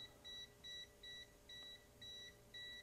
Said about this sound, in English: It turns red and it beeps rapidly to let you know that there is a live AC